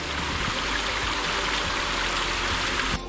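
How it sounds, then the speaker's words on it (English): A waterfall on the Southern Cascades off the Cascade Trail, near Jacob's Ladder, roaring as a dense, loud, steady rush of falling water that fills the whole moment with no voices. "Everybody, there's a waterfall."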